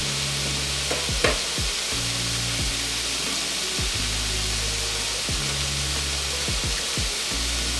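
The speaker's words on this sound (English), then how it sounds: "So I'm just gonna put a little bit in here for my vegetables to cook." Vegetables fry in ghee in a pan, giving a loud, steady sizzle close to the microphone throughout, with a few clinks and stirring scrapes.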